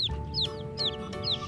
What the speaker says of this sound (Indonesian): ada ayam warna-warni